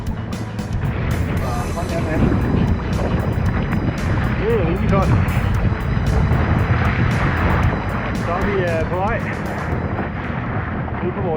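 A small boat on a fishing trip off the rocky Norwegian coast, with steady engine drone and strong wind rumble filling the whole stretch while people talk over it.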